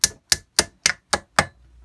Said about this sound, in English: I'll just get a little hammer, small hammer. Just tap that